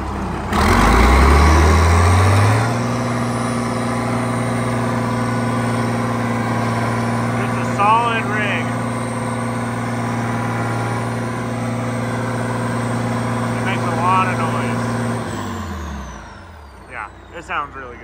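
A heavy diesel engine of an International Harvester 1066 tractor with a turbo starts with a low rumble, then idles steadily for several seconds before shutting down and winding off near the end.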